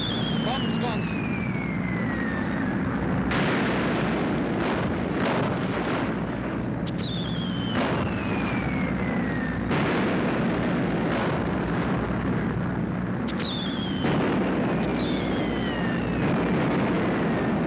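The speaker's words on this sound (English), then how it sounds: "Bombs gone." Bombs dropped from a wartime bomber bursting below, heard as repeated loud booms and falling whistle-like descending tones over a constant heavy aircraft engine drone, with a voice briefly speaking.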